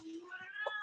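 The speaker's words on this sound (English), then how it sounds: "please excuse my cat. He's getting a little crazy over there." A pet cat gives one short meow up close, rising briefly out of a steady background hum.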